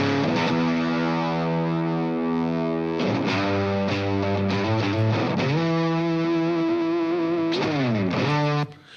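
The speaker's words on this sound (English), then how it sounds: "It's using the same fuzz effect that the solo had" Heavy-gain electric guitar run through a fuzz effect, chugging sustained distorted chords that shift pitch every second or so, with a slide near the end; loud and saturated, alone with no voices, cutting off abruptly at the close.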